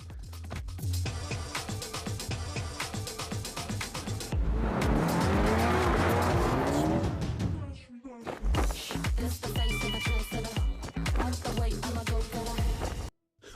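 Fast cars, the quickest available for under $35,000 including a turbocharged Mazda 3, roar loudly up close with steady engine noise, a long tire squeal in the middle and repeated gear changes.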